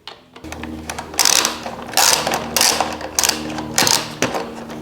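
Ratchet with an extension loosening 10 mm bolts on a Yamaha TT-R 50 dirt bike, close and fairly loud, in repeated bursts of rapid clicking over a steady low hum.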